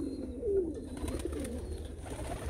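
Meuleman racing pigeons coo softly inside a loft, a low, close burbling call with faint rustling around it and no voices.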